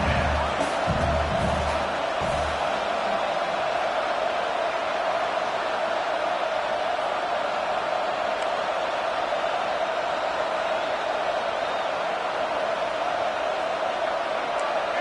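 Roaring football stadium crowd during a West Virginia game, a steady, dense wall of noise holding at full volume throughout.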